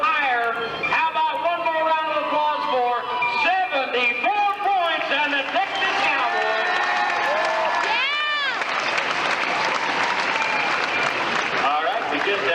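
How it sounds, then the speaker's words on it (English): Steady, loud applause and cheering from a rodeo grandstand crowd at a 1994 Badlands event, with an announcer's voice carrying over the clapping for the whole clip. "How about one more round of applause for 74 points?"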